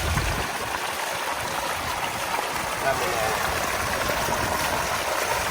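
Water flowing through a stream in a rural Thai fishing spot, a steady broadband rush and trickle running continuously at moderate level with no clear speech on top.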